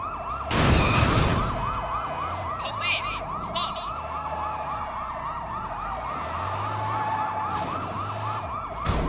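A police car siren in the Sleeping Dogs video game wails in a steady repeating rise-and-fall pattern, loud and close, over engine rumble, with a sharp crash near the start.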